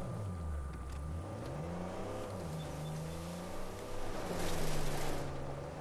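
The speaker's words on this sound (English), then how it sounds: "When you e-brake, you just kind of keep power sliding." A car in the video game Uncharted 4: A Thief's End revs and power slides under the e-brake, its engine rising and falling in pitch with a steady rumble and a louder surge near the end.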